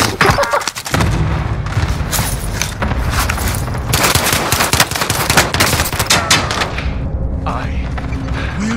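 Dense video-game gunfire during a headquarters defense: rapid machine-gun bursts and sharp shots overlap with occasional booms and thuds, loud and nearly continuous.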